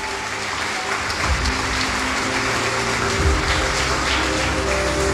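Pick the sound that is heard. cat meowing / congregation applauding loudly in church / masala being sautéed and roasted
congregation applauding loudly in church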